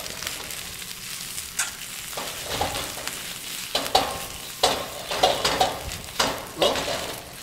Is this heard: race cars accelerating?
no